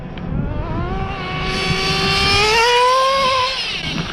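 An HPI Nitro RS4-3 radio-controlled car on 30% nitro fuel and foam tires screams close by with a high, buzzing engine note that climbs as it accelerates, holds at a peak, then eases off slightly.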